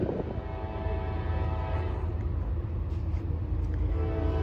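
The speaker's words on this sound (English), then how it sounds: "So, let's see the train in the night." A Norfolk Southern train passes at night in Gaffney, South Carolina, its long horn blaring over a low, rumbling roll of railcars that carries on steadily throughout.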